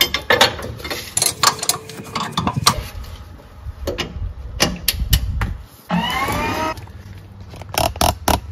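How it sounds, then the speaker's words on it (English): A torque wrench tightens a rear Bilstein 4600 shock bolt to 148 foot-pounds, with close metallic clicks and ratcheting, clanks of tools, and a short grinding strain midway. "that is as high as my torque wrench will go, 148 foot-pounds"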